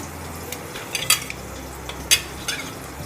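Chopped green chillies drop into a cumin tadka frying in hot oil, giving a soft background sizzle with a few light clinks and stirring taps from a spoon against the pan, fairly quiet and close.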